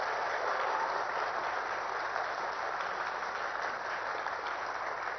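An audience at an officers' training valedictory ceremony claps in a dense, even wash of applause that holds steady at moderate volume from start to finish, with no voices.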